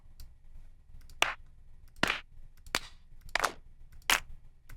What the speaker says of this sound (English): For this one, I'm going to pick 3 claps.